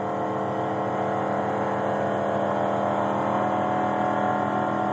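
A race car engine revs steadily toward 4,800 RPM, a loud sustained tonal engine whine with a close, even drone and no talking.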